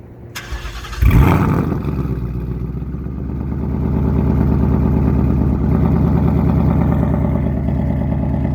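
A Ford Mustang engine cranks and fires up with a loud burst through a stock exhaust, then settles into a steady, rumbling idle close by.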